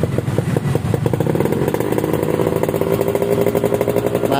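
A Yamaha RX King two-stroke motorcycle fitted with an SKR Racing exhaust runs loud and close, first idling in a rapid staccato rhythm, then revving into a steadier, higher buzzing drone.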